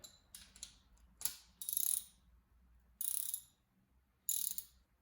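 A ratchet socket wrench loosens a bolt on a Mark 3 Raleigh Chopper bicycle, giving several short clicking ratchet bursts at close range with quiet gaps between strokes.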